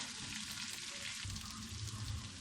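Onions fry in a pan while tawa baingan is being made, a steady close sizzle with continuous crackling hiss and no speech.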